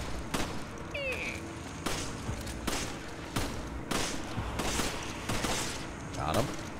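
Video game gunfire while shooting enemies in Resident Evil 5, a series of sharp shots spaced about a second apart amid game ambience, with voices talking over it.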